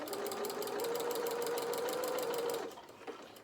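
A sewing machine stitches steadily along a curved fabric edge for a soft toy bear, a close, even rapid whirring hum with regular needle clatter that runs for a few seconds and then stops.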